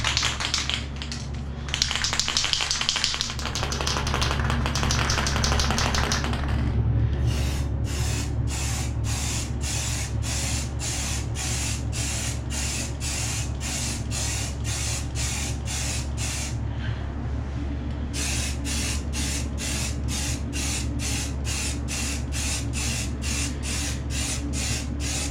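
Flat white undercoat is sprayed onto a bathtub during a crack repair, giving a steady close hiss with short breaks, while a rapid rattling tick pulses through most of the spray.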